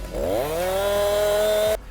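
A chainsaw revs up from low to a steady high-pitched scream, holding loud and close for nearly two seconds before cutting off abruptly.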